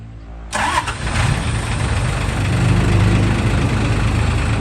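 An Isuzu six-wheel dump truck with a 6BD1 engine, a former container truck, starts up and settles into a loud, steady diesel running with a deep low rumble, close by and with no talking.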